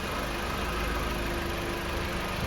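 A Jeep Patriot with a non-CVT powertrain idles in drive with the brake held, giving a steady, close, low engine hum and faint vibration that runs without a break and with no talk.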